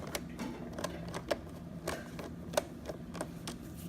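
Small screws being worked out of a Roomba battery cover with a screwdriver, a faint run of light irregular ticks and clicks over a soft background, close and without speech.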